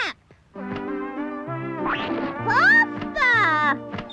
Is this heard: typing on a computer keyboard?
no